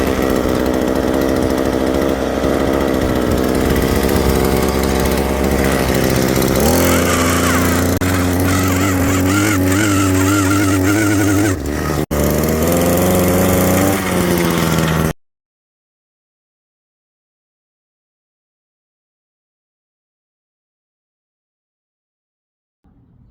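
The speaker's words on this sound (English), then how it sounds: "Next, we're going to drill the holes." A powered post hole auger runs loud and steady, boring fence post holes in fairly soft dirt, its engine note shifting as it bites, then cutting off abruptly to near silence.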